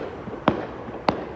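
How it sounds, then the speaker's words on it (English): Two sharp firework bangs go off about half a second apart, distinct and moderately near over a low background hum, in a Utah celebration. "Nothing is more Utah than fireworks always."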